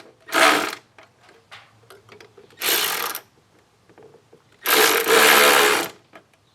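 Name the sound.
tightening down air intake clamps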